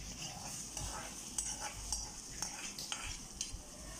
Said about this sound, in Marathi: मॅरिनेटेड केलेले जे प्रॉन्स होते ते ह्याच्यात टाकून घ्यायचे आहेत